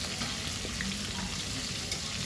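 Steady sizzling and crackling of chicken frying in hot oil, continuous and close, with no voices.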